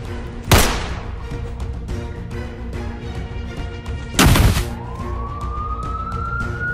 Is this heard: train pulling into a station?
no